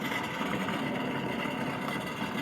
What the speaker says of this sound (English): The engine will cut out after a couple of minutes, and then you can restart it.